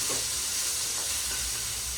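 Chopped onion frying in a pan for egg bhurji, a continuous close sizzle and hiss with faint scraping of stirring, no voices.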